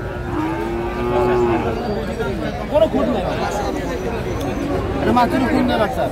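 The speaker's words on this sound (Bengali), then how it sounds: "শাহিওয়ালের 60 বাচ্চা আমরা দেখছিলাম" Sahiwal cattle calves mooing repeatedly at a busy livestock market in Sylhet, with several near, loud calls rising over a steady murmur of crowd chatter.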